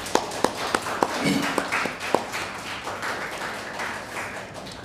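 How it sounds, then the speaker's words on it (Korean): A Sunday-service congregation at a church in Penang welcomes visiting guests with scattered applause: a handful of distinct claps ring out early, then the sound thins into a softer, diffuse patter in a reverberant room. "우리 박수로 한번 환영하겠습니다."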